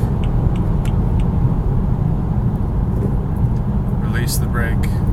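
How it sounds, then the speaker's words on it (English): A car with a no-start/stop fault is driven with alternating gas and hard braking, giving a steady, loud low rumble throughout, with someone narrating over the engine noise. "I'm now exiting and stepping on the brake pretty hard, gas, brake,"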